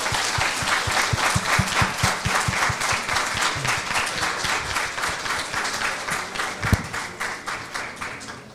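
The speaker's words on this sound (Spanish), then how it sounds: "Necesario regalarle otro fortísimo aplauso al doctor Fernando Ferrán por su magistral conferencia" A lecture hall audience claps after a conference talk on migration and human rights. The applause is sustained and fairly close, with distinct individual claps in the foreground and a sharp louder clap near the end.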